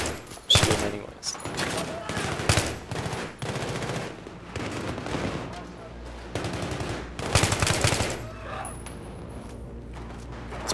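Rapid automatic gunfire rattles in bursts while enemies are shot in Battlefield 3 on hard difficulty, loud, close volleys separated by short pauses, with a voice talking over parts of it.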